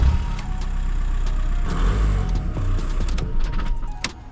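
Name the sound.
VW Golf TDI engine started and running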